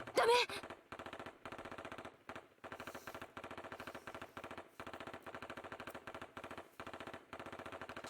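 Rapid machine-gun fire rattles in long repeated bursts with brief pauses between them, loud and close, in the video game Kamaitachi no Yoru.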